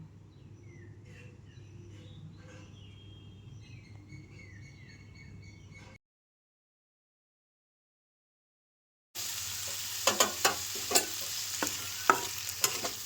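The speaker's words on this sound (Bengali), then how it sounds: "মশলাটা দিয়ে ভালো করে আমি এটা কষিয়ে নেব" Chilli, turmeric, cumin and coriander powders with salt and sugar are sautéed and stirred in a pan, first as a faint scraping bed of sound, then after a pause as a louder sizzle with sharp clinks and scrapes.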